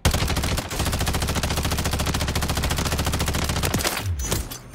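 FJX Horus submachine gun firing in Warzone 3, a long continuous burst of very rapid automatic fire lasting about four seconds, loud and close, ending with a brief trailing sound.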